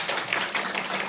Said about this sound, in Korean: 우리 김사님사에게도 박수를 한번 쳐줬으면 좋겠습니다